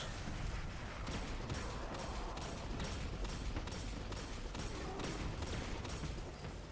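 Sustained gunfire in Destiny 2 during a Grandmaster Nightfall boss fight forms a dense, continuous roar of rapid shots and impacts, loud and unbroken throughout.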